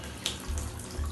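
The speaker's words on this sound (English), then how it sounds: "I'm running the tap at full speed." A household water tap runs at full speed on a combi boiler system, a steady close rushing hiss with no voices over the brief stretch.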